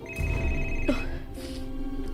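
Phone ringing with steady electronic tones, fairly loud, amid background sound and brief tonal shifts, no clear talking over it.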